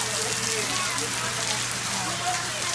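Rain falls steadily outdoors in Port Canaveral, a dense, even hiss of drops hitting surfaces, close and fairly loud throughout with no clear talk.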